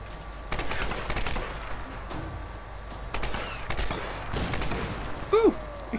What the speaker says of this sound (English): Ooh! Explosion!